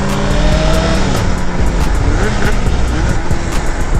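A sport motorcycle, a CBR1000RR or Kawasaki ZX636, roars loudly and continuously close by on a rainy road, its engine note shifting as it pulls away toward the interstate, with no talking.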